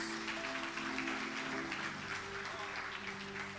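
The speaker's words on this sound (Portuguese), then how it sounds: "Aplauda Jesus mais uma vez" Applause from a church congregation fills the room in a steady, dense wash of clapping, with sustained tones, likely music or voices, running underneath.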